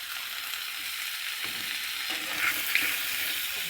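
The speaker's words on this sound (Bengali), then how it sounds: "এই যে মাংস রান্না করছে মেজে, দেখেছো মাংস মাংস রান্না করছি।" Meat cooking in a pan gives a steady, close sizzle and hiss of frying throughout, with faint stirring scrapes underneath.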